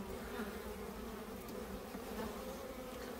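Honeybees buzz at a crowded beehive entrance, a dense, continuous droning hum of many insects, close and steady throughout.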